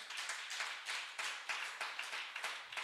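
Church congregation clapping for Jesus during a sermon, with steady rhythmic handclaps from many people repeating at an even pace.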